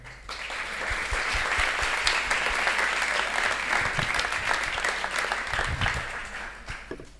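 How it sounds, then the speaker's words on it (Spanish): An audience applauds steadily, a dense wash of many hands clapping at even loudness throughout. "un aplauso"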